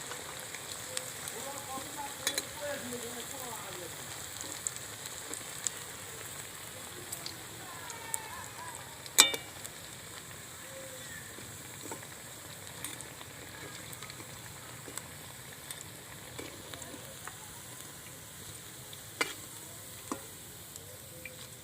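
Semolina snacks deep-frying in hot oil until brown, a steady close crackling sizzle with scattered sharp pops and faint scraping of a strainer throughout.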